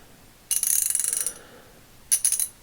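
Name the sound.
Wizard H2833 ratchet switching and clicking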